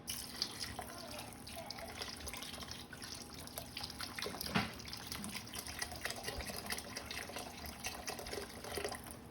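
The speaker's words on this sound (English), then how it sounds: "just adding a couple cups of broth" Broth pours into a pot of tortilla soup in a home kitchen, a soft, continuous liquid splashing with faint drips, close and quiet with no talk.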